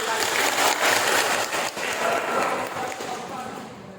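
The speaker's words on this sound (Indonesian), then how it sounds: "kita kasih aplaus dulu" Crowd applause at the opening of a vocational high school job fair, a steady dense clapping wash that holds for about three seconds and then gradually fades, with voices mixed in.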